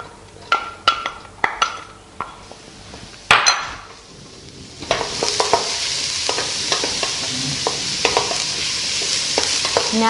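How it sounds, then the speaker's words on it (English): Onions hiss and sizzle in sesame oil in a hot wok after a few sharp clanks, with a utensil stirring and scraping at intervals over the steady frying. "pour a little bit of sesame oil into the wok and saute the onions for a few minutes."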